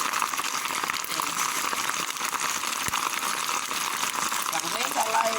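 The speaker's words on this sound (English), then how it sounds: "So I'm going to allow it for more time to fry" Steady, dense sizzling of neem hair oil frying in a pan over low heat, a continuous crackling hiss heard close up throughout.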